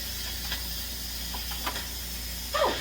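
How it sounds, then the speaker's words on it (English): Steam hisses steadily from the pressure release of a quick cooker making pot roast under a towel, a faint continuous hiss with a few brief sputters. "so the steam doesn't come up and splatter up my walls"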